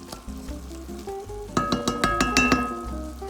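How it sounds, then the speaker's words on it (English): Garlic sizzles and crackles in a hot pan for a beef stroganoff, with a run of sharp stirring clinks from a utensil against the pan in the second half, close and fairly loud, no talking. "Stir that garlic around just until you start to smell that smell from the garlic."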